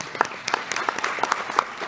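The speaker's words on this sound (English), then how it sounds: "just give yourselves a round of applause just for being here today" An audience of educators at a conference breakout session applauds, scattered individual claps quickly building into a lively round that stays close and fairly loud for the whole stretch.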